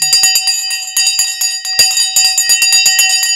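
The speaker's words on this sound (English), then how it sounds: "The bell has now gone once again." A stock market opening bell rings during live trading coverage, a loud, continuous metallic clangor of rapid repeated strikes sustained for several seconds without a pause, close and dominant with no talking.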